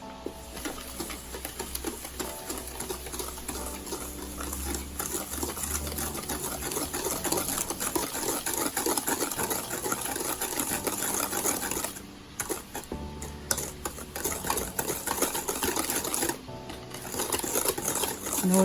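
Banana cake batter is beaten by hand in a bowl, giving a continuous rapid scraping and clicking rhythm for several seconds, with a few short pauses.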